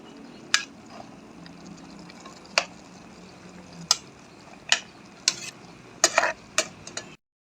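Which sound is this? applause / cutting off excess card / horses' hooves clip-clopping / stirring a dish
stirring a dish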